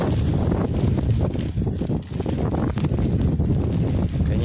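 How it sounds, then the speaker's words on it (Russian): A gust of wind sweeps across an outdoor spot by the water on a mild autumn day, a steady broadband roar with buffeting rumble that stays loud and unbroken throughout. "Очередной порыв ветра."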